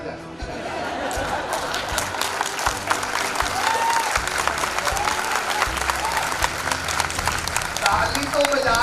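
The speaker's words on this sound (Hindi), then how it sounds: "ताली तो बजा रहे हो" Dense, steady applause fills a large audience at a motivational seminar, with some laughter mixed in; the clapping stays full and even throughout, with no break and no single voice rising above it.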